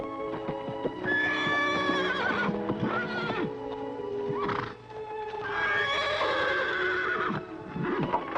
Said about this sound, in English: a great wild horse and the only person on earth who can ride him